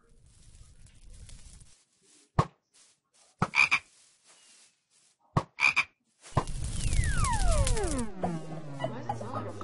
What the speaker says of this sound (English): Why does it sound like a frog?